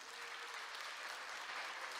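A Sunday-service congregation gives a soft, even round of encouraging applause as members come forward to give testimony. The clapping sounds somewhat distant and continuous throughout.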